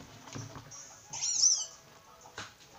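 A kitten meows in Pokémon Sun, one short high cry in the middle over quiet game background, with faint taps around it and no talk.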